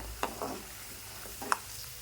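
Masala peanuts fry quietly in a pan, with a soft, steady sizzle broken by two brief scraping stirs about a second apart.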